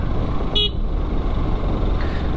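A single short vehicle horn toot sounds over a constant rumble of road traffic on a narrow mountain road in elephant country.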